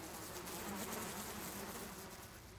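Large, fat bees buzzing inside cages all around, a steady, dense drone that fills the space without a break, eerie in tone for horror ASMR.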